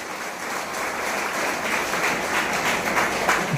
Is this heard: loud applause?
yes